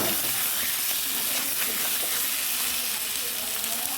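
Crab claws and fried potatoes cooking down in a curry pan give a steady, close sizzling hiss with faint stirring, continuous and even throughout with no talk.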